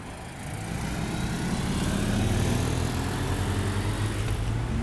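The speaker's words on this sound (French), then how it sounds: "Ah là on a des belles voitures qui arrivent." Sports cars, including Ferrari 196 GTS and 599 GTB, Porsche 964 Targa and 997/991, and an Alpine, arrive at the Le Vigeant circuit, engines rumbling from a distance and swelling steadily louder as they approach.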